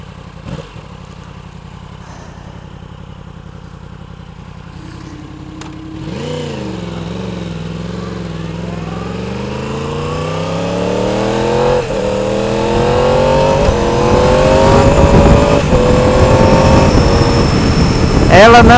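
A 2016 Yamaha R1 motorcycle fitted with a cheap aftermarket exhaust tip idles and then revs repeatedly, engine pitch climbing in rising sweeps that grow louder and harsher, close by, with a rider's voice audible at times.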